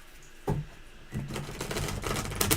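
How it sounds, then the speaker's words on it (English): Tarot cards being shuffled produce quick papery riffles and snaps in short bursts, close and fairly loud, with a few sharp slaps between them. "Shuffle the cards."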